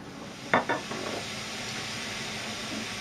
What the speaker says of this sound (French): Pendant la cuisson des oignons et de la viande